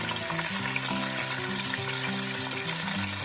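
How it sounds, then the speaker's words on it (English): Spinach sizzles in hot oil, a loud, steady crackling hiss, with faint background music underneath and no talking. "Look at that sizzle."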